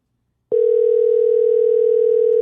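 After half a second of silence, a telephone dial tone starts suddenly and holds as a loud, steady, unbroken hum through to the end, with no speech.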